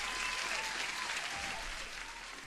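Applause sound effect plays on a day-trading livestream: a dense, even wash of crowd clapping running the whole time at moderate level, with no break.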